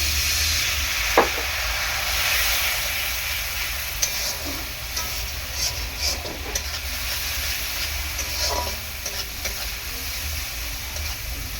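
Water poured into a hot pan of eggplant curry with ground turmeric, chilli and cumin gives a loud, steady, close hiss and sizzle, with occasional stirring clatters and no talk.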